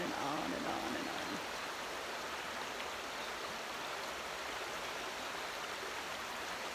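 A river flowing at Ogmore on a sunny day, a steady, even rush of moving water that stays faint and unbroken throughout, with no voices over it.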